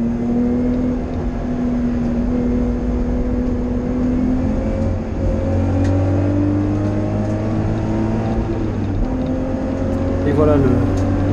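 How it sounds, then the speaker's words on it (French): BMW E30 325i race cars at a rolling race start at Hockenheim: steady, loud engine drone with a rising whine as the pack accelerates, heard from inside a car, and someone speaks over it. "Et voilà le départ lancé pour ma première course."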